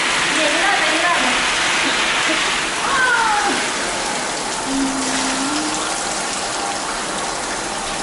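Water streams steadily from a spa shower lounger, a loud hissing wash that runs throughout while people talk over it.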